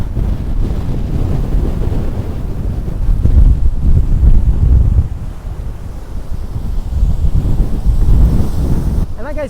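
Heavy hurricane surf pounds the beach at Wildwood, New Jersey, with strong gusting wind buffeting the microphone in a loud, steady roar that swells and eases in waves; no one speaks.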